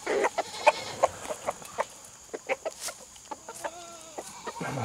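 Chickens cluck in short, irregular bursts close by, with a few drawn-out squawks near the end, fairly quiet otherwise.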